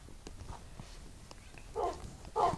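A dog barks twice near the end in Minecraft, short muffled yips over a low game-like background hum.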